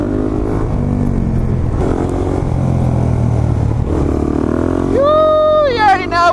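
Supermoto motorcycles riding together in a pack through LA streets, with steady engine drone and revving throughout, rising into a loud whining upshift sweep near the end as one bike accelerates close by.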